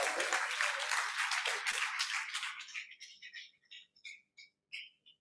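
Conference audience applauding, a dense burst of clapping for a couple of seconds that thins into a few scattered, isolated claps.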